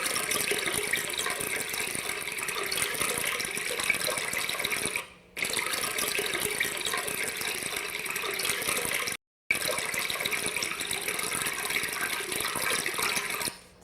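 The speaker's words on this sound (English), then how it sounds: "this one is a little brook sound" Flowing water rushes in a steady, dense stream like a small babbling brook, broken by two brief gaps of silence and otherwise continuous and fairly loud.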